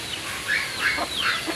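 Chickens in a coop give a few short clucks and calls, close and moderately loud, spaced through a brief stretch with a faint background hiss.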